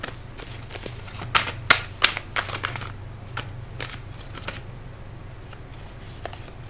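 Tarot cards are shuffled and drawn at close range: a quick burst of crisp riffling flicks and slaps, then softer sliding and tapping of cards over a low steady hum, with no talk.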